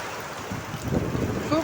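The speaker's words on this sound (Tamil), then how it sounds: "பாருங்கள் பயங்கரமான மழை" Heavy rain pours outdoors in Omalur, Salem district, making a dense, steady hiss and rush with a gusty swell, as a voice speaks faintly underneath.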